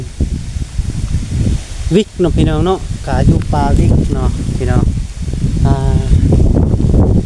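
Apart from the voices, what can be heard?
dry wind rustling leaves outdoors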